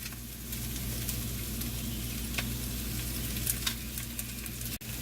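Onions sizzle and fry steadily in a pan as they cook down for a grilled chicken dinner, a continuous close crackling hiss with a low hum beneath and no talk.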